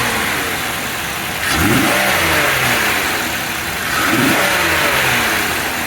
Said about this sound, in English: Now we're going to rev the engine up and see how the fuel pressure changes.